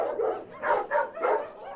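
A large chorus of homeless shelter dogs near Kyiv barks together in repeated overlapping bursts, a dense mass of voices that rises and falls several times and holds close and loud throughout.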